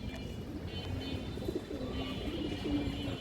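A China khaki male pigeon coos softly in a loft, giving a few low, rolling calls against a faint, steady background with no talking.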